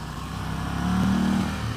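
A 2018 Yamaha Star Venture motorcycle engine revving up into its rev limiter, a brief low rumble that swells and holds with a buzzy tone before easing off, close and alone.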